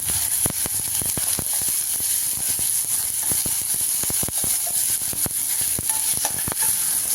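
Onions with ginger garlic paste sauté in a pan for potato bonda, giving a constant close sizzle broken by frequent sharp scraping clicks as a spoon stirs them.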